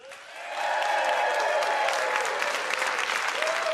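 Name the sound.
studio audience applause for Davante Adams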